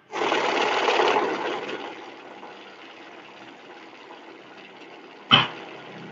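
A sheet-counting machine whirs rapidly through a stack of paper, loud at first and then settling to a quieter run, with one sharp click near the end and no talking.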